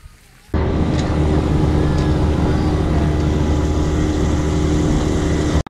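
A motorboat at Port Stephens, NSW, starts up and then runs loud and steady, its engine droning with water and wind noise for several seconds before cutting off abruptly at the end.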